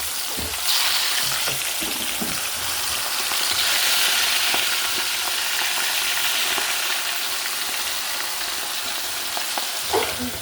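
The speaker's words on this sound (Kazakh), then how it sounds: "Май қызып тұрған кезде екінші балығымызды саламыз осылай." Fish frying in hot oil in a pan, a steady loud sizzle running throughout with brief crackles and clatters at the start and near the end.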